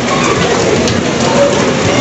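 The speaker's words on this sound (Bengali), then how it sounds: "বাইরে হচ্ছে তুমুল বৃষ্টি" Heavy rain pours down in a steady, dense hiss, loud and continuous with no pauses.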